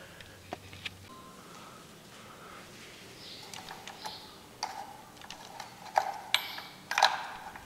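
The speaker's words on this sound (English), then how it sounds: "You're going to want to unplug the motor" Motor wire connectors are pulled apart on a Traxxas E-Revo Brushless Edition RC car, giving small plastic clicks and snaps. They are close and quiet and grow sharper toward the end, with faint handling noise and no speech.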